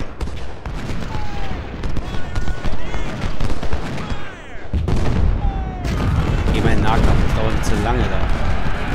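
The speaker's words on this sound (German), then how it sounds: "Ich höre noch Kanonenschüsse, ich weiß auch nicht woher." Cannon fire in the Civil War strategy game Ultimate General, recreating the Second Battle of Bull Run: loud, continuous rumbling booms and rolling volleys with someone talking over them.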